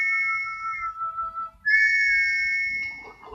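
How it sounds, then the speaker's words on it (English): Thomas the Tank Engine gives a sleepy steam whistle in an animated story, a clear tonal toot that dips lower, pauses briefly, then returns as a louder, higher sustained whistle. "he started to sleep whistle"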